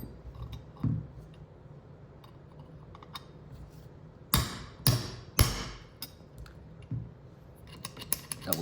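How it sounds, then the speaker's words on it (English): Hammer tapping a roll pin into the bolt catch of an AR-15 lower receiver, three sharp metallic taps in quick succession, close and distinct, among faint clicks and handling noise. "Then take your hammer,"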